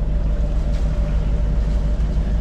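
A sailboat crossing from Ajaccio to the Lérins Islands runs under engine, a loud steady low drone with wind and water rushing over it and no talking.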